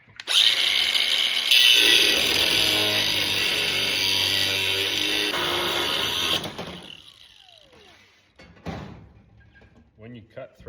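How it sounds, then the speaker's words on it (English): An angle grinder cuts through a threaded rod with a loud, continuous whine for about six seconds, then it stops and the disc spins down, followed by a few faint clanks and handling noises. "When you cut threaded rod with a grinder and not a bandsaw, that's what you get."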